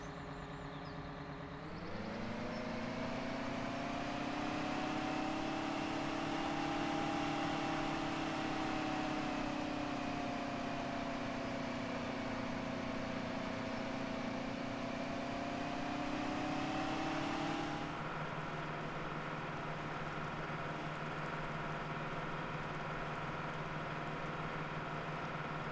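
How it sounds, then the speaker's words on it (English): Farming Simulator 17 tractor driving, a steady loud engine drone with a rising then settling pitch for most of the run, dropping to a lower idle-like hum near the end, with no talk over it. "We'll just drive the tractor back and refill it then."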